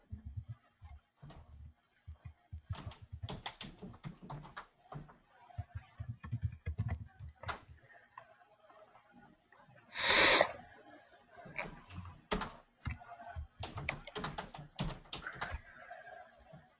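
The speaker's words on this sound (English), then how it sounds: "Someone is typing the code." Computer keyboard keys clatter in irregular bursts of fast typing as code is entered, fairly quiet and close, with one brief louder noise in the middle.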